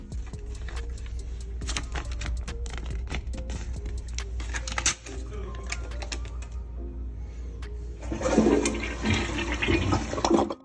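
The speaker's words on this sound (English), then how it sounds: "he followed it up with a video of himself flushing more money down the toilet." A toilet is flushed with cash in the bowl, giving a loud, continuous rush of water with clattering, gurgling noise that swells near the end, with no one talking.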